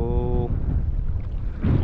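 Wind buffeting a microphone on a fishing boat out at sea, a steady low roar with a brief tonal hum at the start and a gust swelling near the end.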